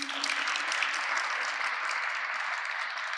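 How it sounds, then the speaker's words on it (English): Steady applause from an audience at a community talk show in Waltham, a dense wash of clapping that holds evenly for a few seconds with no voices on top. "A round of applause for him again."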